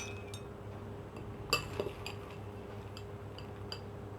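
A spoon clinks lightly against a dish as fox nuts (makhana) are added to milk and mixed, giving a few faint, scattered taps over a low background hum.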